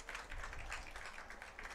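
Crowd at a high school boys' soccer match applauding as an injured player limps off the field, a soft, distant patter of scattered clapping spread evenly throughout.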